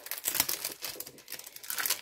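Protective plastic film being peeled off double-sided adhesive sheets used for diamond painting, close crinkling and tearing crackles in several uneven bursts, loud and near, with no speech.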